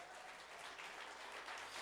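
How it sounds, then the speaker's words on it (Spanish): A church congregation applauds during a worship service: steady, soft, distant clapping with a broad wash of hand claps and no clear voices. "Denle un fuerte aplauso al Señor por eso"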